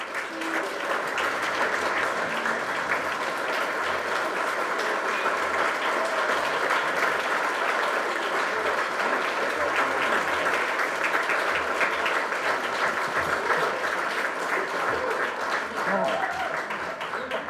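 A luncheon audience gives sustained, dense applause for a Volunteer of the Year award recipient walking to the podium, loud and steady from start to finish.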